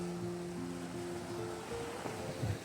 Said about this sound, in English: It's just beautiful with the sound of the ocean